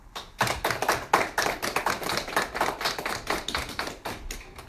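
Applause from an audience honoring healthcare workers and first responders: a small group claps in quick, uneven, distinct hand slaps, close and clear, with no talk over it.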